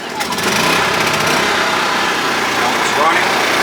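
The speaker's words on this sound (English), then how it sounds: "We're gonna crank these generators." A WEN portable generator engine cranking and running, a loud, continuous buzzing engine roar filling the whole stretch, with people's voices faintly mixed in.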